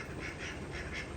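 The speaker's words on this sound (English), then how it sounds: "all of our ducks should be out at the pond doing what ducks do" Several farm ducks quack in repeated bursts on a pond at mid-morning, the calls coming in a loose rhythm over steady background noise, with no talking.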